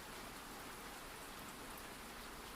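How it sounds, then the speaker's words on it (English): Gentle rain falls steadily in an even, soft hiss of countless drops, constant and unbroken throughout, with no voices. "The rain continued its gentle rhythm."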